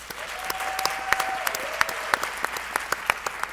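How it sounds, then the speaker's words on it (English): A brief round of applause at a school board meeting for a student, light scattered clapping from a small group with distinct individual claps and faint talk beneath. "We can give him a quick round of applause"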